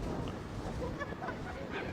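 Strong wind gusts roaring steadily over a gas fire burning from the ground on a mountainside, a loud continuous rumble with no clear pauses.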